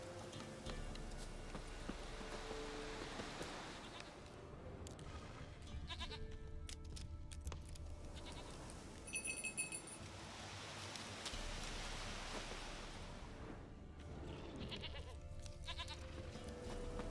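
Goats bleat inside The Witcher 3 game world, several calls spread across the stretch over a busy, rain-like ambient bed with hoof clatter and game sounds, no talk.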